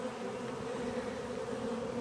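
Honey bees buzz at the reduced entrance of a hive holding a captured swarm, a close, constant droning hum with no pauses and no voices.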